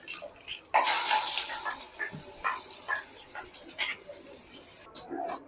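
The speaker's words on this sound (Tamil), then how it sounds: "இப்போ வந்து இந்த மிக்ஸி ஜார் கழுவுன கொஞ்சமாக தண்ணி சேர்த்துருக்கேன்." Water left from rinsing a mixie jar is poured into a spicy South Indian garlic chutney, giving an initial gush and then a series of short splashes and trickles. The sounds are close and uneven, and no one talks.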